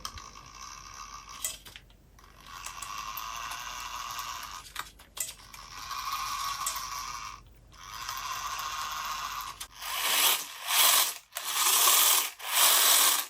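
Small RC crawler gearbox and drive shaft spinning on a bench, a close whirring, ratcheting grind that runs in bursts separated by brief pauses, growing harsher and more choppy toward the end.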